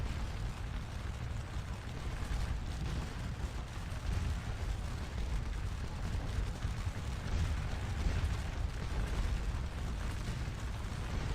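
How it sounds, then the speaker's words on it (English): Cannon fire from a lone field gun shooting canister into an infantry unit in the Waterloo battle game Scourge of War, heard as a dense, continuous low rumble of booming artillery and distant battle noise with no talk. "we have a lone cannon right here that's firing canister fire into this unit"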